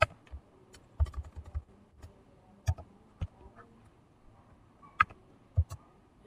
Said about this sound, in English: So type in button